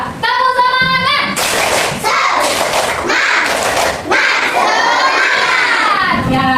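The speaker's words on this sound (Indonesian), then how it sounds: "Coba tepuk semangat." A classroom of children performs the tepuk semangat clapping chant during an ice-breaker, loud and close, with rhythmic clapping bursts mixed with shouted, chanted voices and excited cheering throughout.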